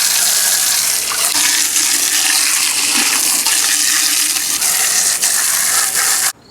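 Water rinsing out pool pump filter hoses during winterizing, a steady, loud, broadband rush of flowing water that continues without pause and cuts off abruptly at the end.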